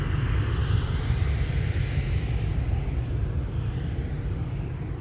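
A KLM airliner departing Amsterdam Schiphol Airport, a steady broad roar of jet engines heard from some distance that holds level throughout, with no voices.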